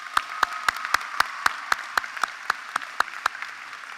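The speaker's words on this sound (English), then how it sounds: "round of applause for these wonderful recipients." An audience at an adult and community education graduation claps for award recipients, a thin, steady run of sharp claps at an even rhythm, fairly close and a little sparse, with no voices.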